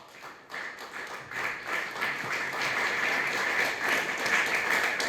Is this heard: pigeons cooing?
no